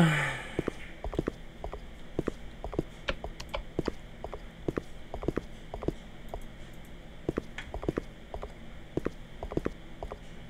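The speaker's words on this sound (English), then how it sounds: "Footstep sounds stopped rather abruptly." Footsteps in a horror video game: a steady run of light, evenly paced footfalls, faint and fairly close over a quiet hum, continuing for about ten seconds with no speech.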